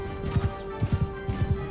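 Horse hooves galloping in a castle-assault battle in the video game Mount and Blade Bannerlord, loud and close in rhythmic clusters of three or four thuds, repeating three times over a steady low game hum.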